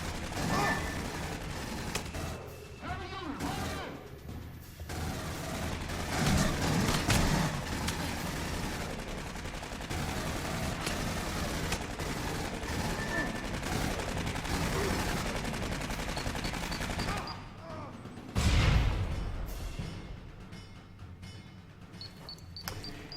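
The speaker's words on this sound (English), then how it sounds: "Damn it, they got auto turrets! Shooting those won't do any good!" Auto turrets firing in the Aliens: Colonial Marines video game, a continuous rattle of rapid gunfire with mechanical clanks, a sharp heavier burst near the end, and a voice talking over it.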